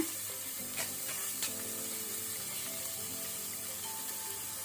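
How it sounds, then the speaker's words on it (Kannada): Sliced onions and curry leaves sizzle in hot oil, a steady bright crackle with scattered pops and faint stirring, close and continuous with no voices. "ಈರುಳ್ಳಿ ಫ್ರೈ ಆಗುವಾಗನೇ ನಾವು 1 ಕಡ್ಡಿ ಕರಿ ಲೀವ್ಸ್ ಒಗ್ಗರಣೆ ಸೊಪ್ಪು ಹಾಕೋಣ"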